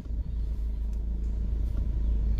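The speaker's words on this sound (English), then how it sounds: "Okay, so I'm gonna go ahead and start the car." Car engine idling just after starting, with a steady deep rumble close to the microphone, loud and even throughout, no speech; the car has a DCT DPS6 dual-clutch transmission.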